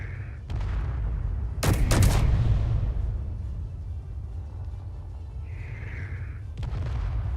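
Weapon fire in Space Engineers: a few sharp isolated shots and one louder double crack over a low rumbling background hum, fairly distant, with no talk.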